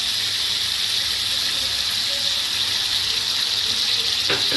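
Water poured into a pan of frying katla fish masala for a korma, giving a steady hiss and gush that runs throughout, with a brief clatter near the end.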